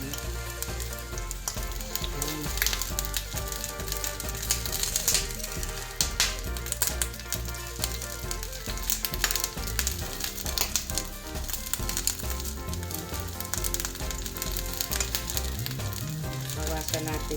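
Eggplant omelette (tortang talong) frying in a pan, a dense, continuous sizzle with crackling pops that stays close and fairly quiet throughout, with no talking.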